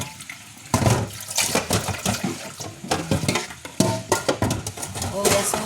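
Ripe mangoes are rubbed and swished by hand in a basin of water, giving close, irregular sloshing and splashing in uneven bursts with brief pauses.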